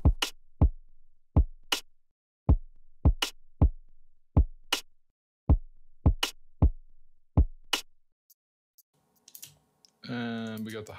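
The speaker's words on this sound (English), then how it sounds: "And in the end, the drum beat sounds like this." A programmed drum beat from a music production plays back, punchy kick-and-snare hits in a steady pattern with hi-hats, about eight seconds of loops before it stops and a brief voice begins near the end.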